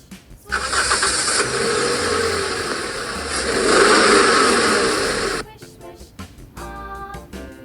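A passenger car is heard loud and close for about five seconds, a broadband engine and road roar that swells midway, then cuts off abruptly and gives way to music.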